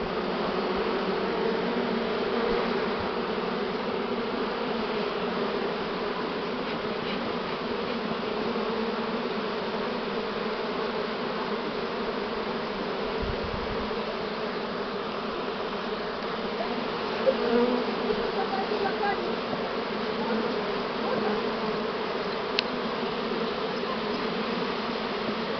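A steady, dense hum of a large Buckfast bee swarm buzzing together, continuous and close, with no voices and only a faint click or two.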